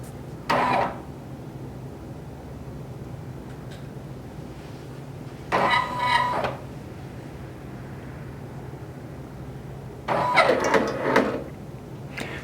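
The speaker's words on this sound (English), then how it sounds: "We're going to hit OK, and it's going to detect the thickness of our fabric." A Baby Lock Venture 10-needle embroidery machine detecting fabric thickness: three short mechanical whirring bursts spaced several seconds apart over a low steady hum, close and moderately loud.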